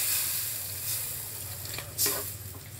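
Vegetables sizzle hard in a hot pan for a dried fish recipe as water goes in, a steady loud hiss with a brief burst of sputter near the end, close and with no voices.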